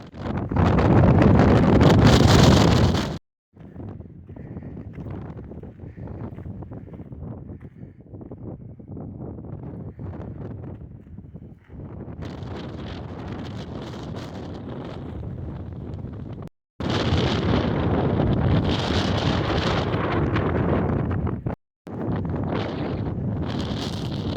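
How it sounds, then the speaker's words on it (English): Strong gusts of wind on the moorland at Stanage Edge in the Peak District, UK, buffet the microphone in loud roaring waves, dropping out briefly between bursts, with no voices. "It's a bit windy."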